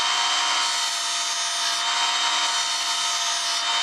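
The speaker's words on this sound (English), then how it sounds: "Got a 60 grit belt on here." A belt grinder fitted with a 60 grit belt shapes metal in a shop, giving a steady, loud broadband hiss and rasp that holds unbroken from start to finish with no voices.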